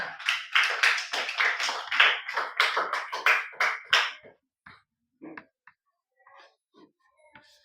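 Schoolchildren in a sixth-grade class clap their hands in a quick, rhythmic burst for about four seconds, then it dwindles to a few scattered, fading claps.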